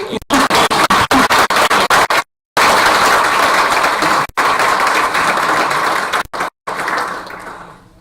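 Audience applause at a swearing-in ceremony for new Peace Corps volunteers in Kosovo: loud, steady clapping close to the microphone, briefly cut by sharp dropouts, then fading.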